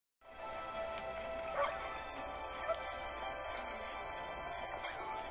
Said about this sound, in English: I hear a dog somewhere.